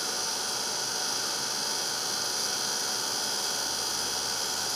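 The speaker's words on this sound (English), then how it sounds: "with our heat gun we'll just melt that down" A heat gun blows steadily on Opals embossing powder spread over chipboard, melting it for a Valentine's Day card: a constant, even broadband hiss and hum, fairly quiet and close, with no voices or breaks throughout.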